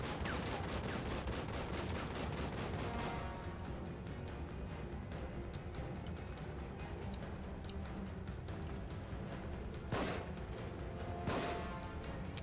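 Gunfire in The Evil Within, a dense burst of rapid shots for the first few seconds, then two separate sharp cracks standing out over quieter background, with faint talking underneath.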